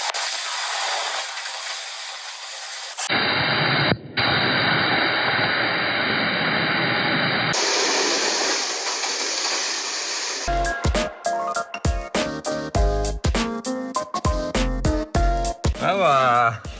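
A 60,000 PSI waterjet blasts a massive industrial bearing, producing a loud, steady roaring hiss that shifts in character across the run, ending in rapid pulsing bursts as the gunked-up bearing spins.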